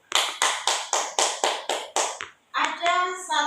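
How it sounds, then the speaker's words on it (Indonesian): A class of students claps for classmates who shared their life experiences: eight or nine loud, evenly spaced unison claps in a steady rhythm, followed by a burst of children's voices. "Ibu minta kita tepuk tangan bagi kita yang sudah menceritakan pengalaman"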